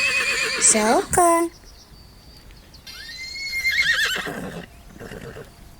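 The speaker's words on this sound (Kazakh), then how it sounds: "Жылқы." A horse whinnies with a high, quavering call, followed by a longer, wavering neigh and some lower rustling noise.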